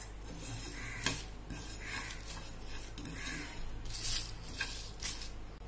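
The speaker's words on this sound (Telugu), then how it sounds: "2 మినిట్స్ అంతా ఫ్రై చేసుకుందాము" Whole spices, including coriander seeds and cumin, dry-fry in a pan while a spoon scrapes and clinks against the metal in slow repeated strokes over a low steady hum.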